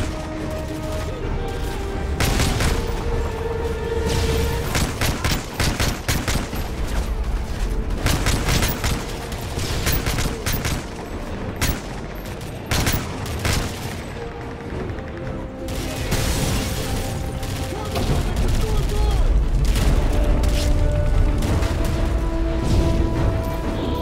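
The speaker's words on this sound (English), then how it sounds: "Frost, Prince, lay down cover fire!" Dense, continuous gunfire from Call of Duty combat as a squad lays down cover fire across a courtyard, with rapid overlapping bursts, booms and crashes loud throughout, shouted voices mixed in.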